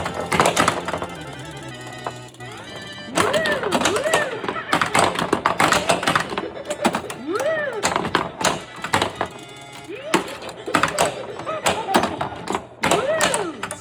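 A 1988 Williams Jokerz pinball machine in play, close and loud: rapid flipper thumps and ball knocks mixed with electronic tones and rising and falling voice-like callouts from the game.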